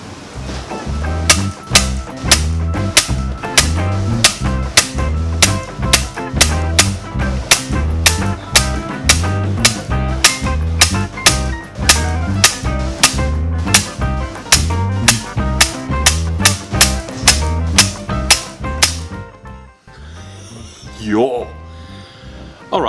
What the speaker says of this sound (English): I'm gonna shoot each of them five shots into my target up front